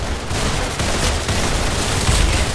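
Video game gunfire rattles in a steady, loud barrage of rapid shots through the whole stretch, with heavier booming hits near the end and no talk.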